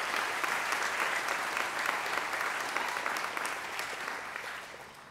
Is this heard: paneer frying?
no